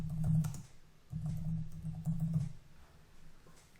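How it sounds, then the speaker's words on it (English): Fingers type on a computer keyboard, clicking out short bursts of keystrokes separated by brief pauses, close and moderately loud with no voices. "And I'll type some directions."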